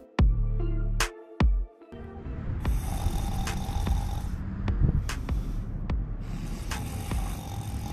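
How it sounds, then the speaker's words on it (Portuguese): A man sleeping rough outdoors near the Mexico–US border snores in heavy, rasping breaths, the first two loud and close, then softer amid steady street hiss and passing noise. "O cara tá roncando."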